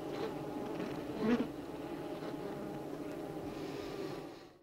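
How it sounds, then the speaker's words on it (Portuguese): Honeybees inside a hive give a steady close buzzing hum while a newly emerged drone is pulled forcibly from its cell, with a brief louder swell of buzzing partway through before the sound fades out. "Um zangão recém-formado é retirado à força de sua célula."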